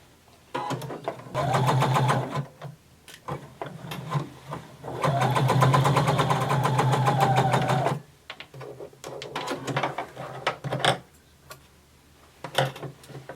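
A sewing machine bastes the side seams of a McCall 6361 denim skirt with long stitches in two loud, close bursts of whirring motor. Lighter ticking and handling noises follow.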